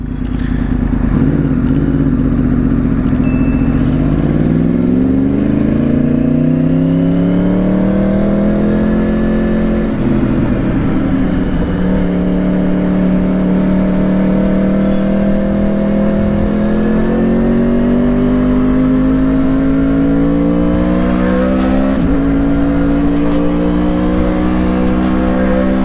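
Old-shape Yamaha R1 Crossplane superbike with a TOCE full exhaust system revving while being ridden, a loud, close, rising and falling engine drone with throttle surges and gear changes, sustained throughout with no talk.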